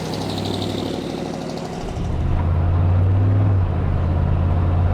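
A squarebody Chevy truck engine runs on a drive. It idles with a steady low rumble, then swells into a louder, fuller drone partway through and stays close and prominent.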